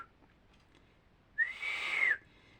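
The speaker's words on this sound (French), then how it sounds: "Mais ça y est, je peux siffler." A person whistles one sustained, sliding tone lasting under a second, loud and close, after near silence.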